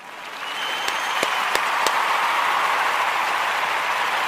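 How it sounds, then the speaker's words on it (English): A crowd gives a sustained round of applause, a dense, even wash of clapping with a few sharper claps standing out early on. "I want to give all of the Kujichagulia babies a round of applause."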